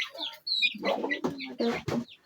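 Chickens cluck in short bursts at close range, with a brief higher squawk near the start.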